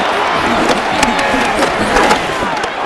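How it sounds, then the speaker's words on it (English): A steady, loud stadium crowd roars and cheers ahead of a third-down play in Madden NFL 26, Panthers versus Cardinals, a continuous wash of crowd noise with sporadic sharp peaks. "This crowd into it now as we get to third down."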